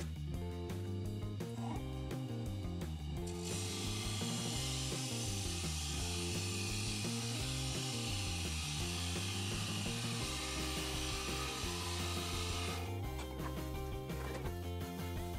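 Cedar wood cut on a lathe as a vase is turned, with a rough scraping, rasping tool noise that runs steadily and loudly over a constant low motor hum. No one speaks.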